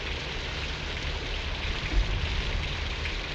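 Steady rain hisses across the whole span as a dense, even patter with no other sounds, like a background layer in a dark medieval plague-era drama.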